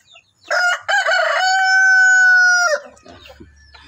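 A Basilan chicken, a large-bodied laying hen kept among farm fowl, gives one long, loud, drawn-out crowing call after a few short clucks, then falls quiet with faint low background rumble.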